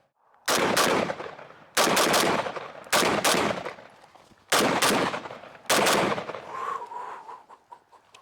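Five loud FAL rifle shots crack one after another at roughly even intervals, each followed by a short echoing decay outdoors; faint background noise fills the gaps.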